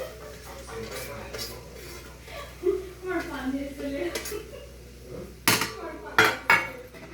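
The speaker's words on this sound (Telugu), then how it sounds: "నేనైతే ఆనియన్స్ వేసుకొని ఒక స్పూన్ తీసుకొని నేను మిక్స్ చేసుకుంటున్నాను." A metal spoon stirs chopped onions in a metal pot for chicken curry, with a few sharp scraping clinks near the end and a voice talking over the quieter stirring.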